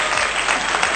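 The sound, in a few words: applause, Audrey clapping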